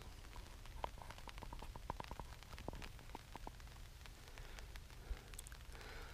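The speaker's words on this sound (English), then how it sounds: "Slight drizzles came about just in the past 10 minutes" Light drizzle falls on the Isle of Bute in Scotland, a faint outdoor patter of scattered drops ticking irregularly against a soft hiss, quiet and close.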